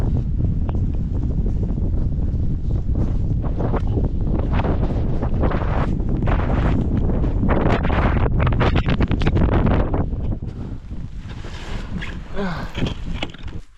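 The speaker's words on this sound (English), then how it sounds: "I'm taking a shelter behind this big stone from the wind" Strong wind blasts across a winter mountain climb on Malyovitsa, roaring and buffeting the microphone in a continuous heavy rush that eases slightly toward the end.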